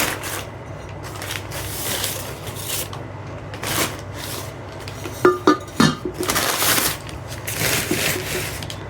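A clay cooking pot with a decorated lid being handled, giving scattered close clinks, knocks and scraping of earthenware with short bursts of rustling between them.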